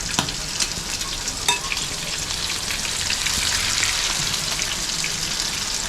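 Prawns sizzle steadily in hot oil while being fried for a prawn tikka biryani, a dense crackling hiss running throughout with a few sharp pops near the start, close and fairly loud with no talking.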